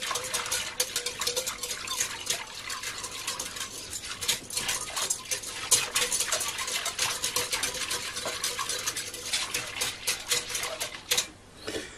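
A spoon stirs lukewarm milk with yeast in a bowl, producing steady fast clinking and scraping that runs continuously for about eleven seconds and then stops.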